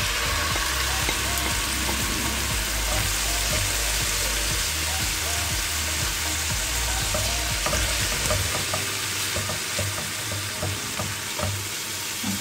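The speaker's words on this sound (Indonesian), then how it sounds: "kita masukin udang" Shrimp dropped into a hot pan of oil fry with a loud, steady sizzle while being stirred, part of cooking stir-fried bitter melon with salted mustard greens.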